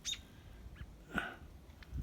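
Small birds roosting in cedar trees on a snowy cattle farm at sunrise, giving a few faint, brief chirps and calls scattered over quiet outdoor background, fairly distant.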